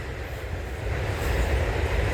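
Last car of an eastbound Norfolk Southern freight train rolling past at Leipsic Reservoir, Ohio: a steady, fairly close rumble of wheels on rail with no pause and no voices.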